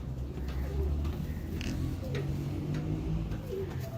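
Pigeons coo in a low, steady, rolling murmur at a Lahore pigeon loft, the soft throaty calls overlapping continuously with faint background voices.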